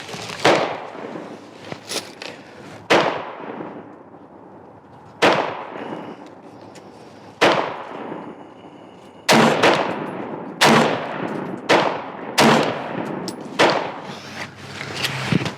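A Midwest Industries AR-15 rifle firing at an outdoor range, about a dozen loud, sharp single shots at irregular intervals, each with a short ringing decay, and no talking.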